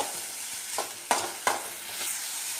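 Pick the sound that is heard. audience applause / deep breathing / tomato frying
tomato frying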